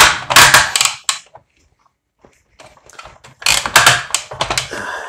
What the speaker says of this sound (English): His waist, ratchets, spins all the way.